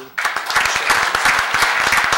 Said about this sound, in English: Would you join me in a round of applause for